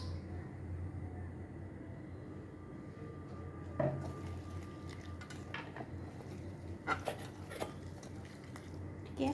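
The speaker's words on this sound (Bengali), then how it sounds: "লবণটাকে দিয়ে ভালো করে মাখিয়ে নেব" Cucumber and chanachur hand-mixed with salt and mustard oil in a bowl, heard as soft, steady squishing and rubbing with a few sharper clinks of the bowl, close and fairly quiet, with no talking.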